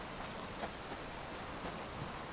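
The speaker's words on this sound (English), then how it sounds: "Can't believe it's raining again. Raining, raining, raining." Steady rain falls in the survival game Subsistence, a dense, even hiss with no voices, holding at a constant moderate level with small droplet spikes throughout.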